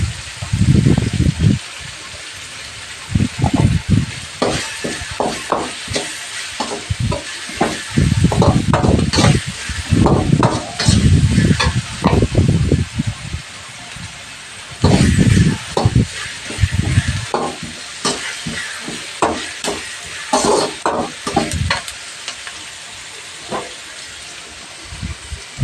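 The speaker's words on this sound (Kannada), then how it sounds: "ಈಗ ಇದನ್ನು ಸಹ ಸ್ವಲ್ಪ ಫ್ರೈ ಮಾಡಿ ಇವಾಗ ಸ್ವಲ್ಪ ಅರಿಶಿನ ಪುಡಿನ ಹಾಕ್ತೀನಿ." Goat blood fry with salt and turmeric being stir-fried in a pan, with recurring scraping stirs and bursts of sizzling that come and go over a low steady background, no one talking.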